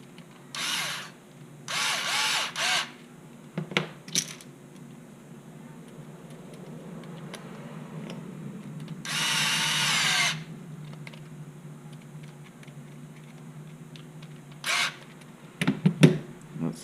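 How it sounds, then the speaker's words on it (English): A small power driver runs screws into standoffs on an FPV racing drone frame, giving several short, close whirring bursts of a second or so, with one longer run and light handling clicks between them. "And then you run 2 screws into the top side."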